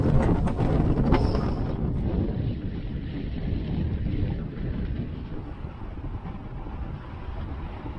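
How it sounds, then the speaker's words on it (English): Strong, gusty winds blowing off the mountains batter a sailboat on the Baja Mexico coast, a loud, roaring, turbulent rush of air with buffeting microphone noise throughout. "Pretty wildly gusty winds coming in off the mountains here."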